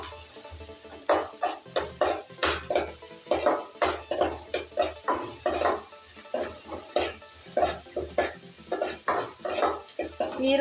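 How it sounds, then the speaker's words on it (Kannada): Finely chopped onions fry in a pan while a spoon stirs them in a steady rhythm of repeated scraping strokes over a soft, faint sizzle. "ಈರುಳ್ಳಿ ಚೆನ್ನಾಗಿ ಮಾಗೋವರೆಗೂ ಫ್ರೈ ಮಾಡ್ಕೋಬೇಕು"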